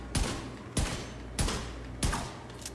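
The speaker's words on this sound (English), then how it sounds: "That's 6 shots right there." Four pistol shots in The Division 2, evenly spaced about two-thirds of a second apart, each a sharp loud crack with a short decaying tail over a steady low game hum.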